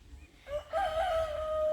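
A rooster on a small farm crows once, a close, clear cock-a-doodle-doo that rises after a short cluck and holds its final note to the end.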